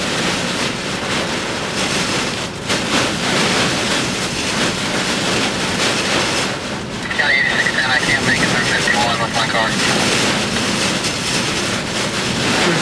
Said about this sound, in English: I didn't want to be next to the trees when this wind was blowing.